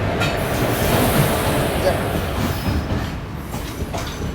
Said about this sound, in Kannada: ಒಂದು ತಾಸು ಡಿಲೇ ಆಗಿ ಅರಗಾತ್ ನೋಡ್ರಿ ನಮ್ಮ ಟ್ರೈನ ಸಗಂಧ ಸೂಪರ್ ಫಾಸ್ಟ್ ಎಕ್ಸ್ಪ್ರೆಸ್